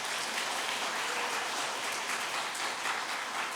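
Sustained, even applause from a large church congregation for a choir, a dense patter of clapping that holds steady without pauses.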